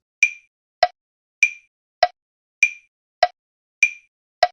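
Crisp electronic clicks tick at a steady even pace, alternating between a higher-pitched accented click and a lower one, eight beats in all.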